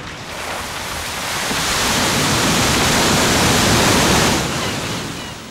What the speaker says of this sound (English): Cubic meters of sand and water are pumped onto the beach with an incredible force.